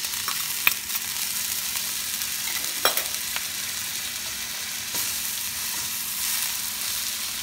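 Onions and garlic frying in a pan for sweet and sour red snapper: a steady bright sizzle throughout with occasional spatula taps and stirring clicks, close and alone.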